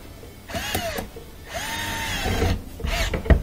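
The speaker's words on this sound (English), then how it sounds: "Tighten up that screw." A power drill tightens a screw on a Frigidaire dishwasher air gap, whirring up and winding down in three short close bursts with a faint ratcheting edge.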